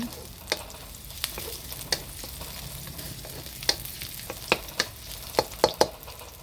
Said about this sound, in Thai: กระเทียมพริกลงไป ผัดให้กระเทียมมีกลิ่นหอม